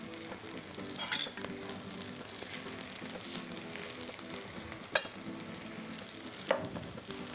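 Fish steak sizzles steadily in a hot pan in a restaurant kitchen, a dense continuous frying hiss with a few sharp clinks of utensils on top, no voices.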